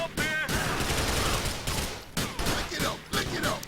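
Rapid bursts of SMG fire from a video game, harsh and dense, crackling in several quick volleys over about four seconds.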